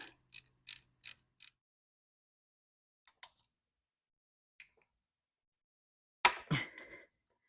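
Ratchet working a 6mm bolt on a Kawasaki Vulcan 750 engine: a few quick dry clicks at the start, two faint isolated ticks, then a louder clattering burst near the end, all close and without talk.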